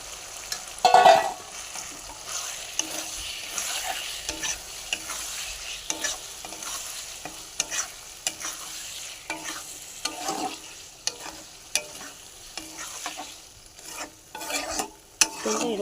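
Lote fish frying in spice paste in a pan, with a steady sizzle and repeated stirring scrapes and clinks of a utensil against the metal, close-up and without speech.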